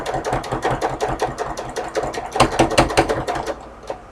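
A sewing machine stitches fabric with a rapid, rhythmic mechanical chatter, loud and close, speeding up slightly before slowing to a stop near the end, with no voices.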